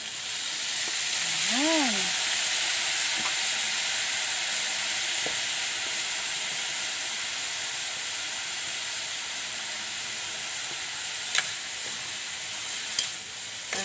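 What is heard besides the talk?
soy sauce added to sizzling pan of frying labong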